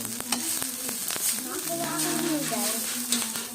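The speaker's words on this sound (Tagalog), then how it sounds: "At ito ay aking niluluto pa, sinasangag." Rice being stir-fried in a pan, a steady close sizzle broken by repeated scraping and stirring strokes, with faint background voices.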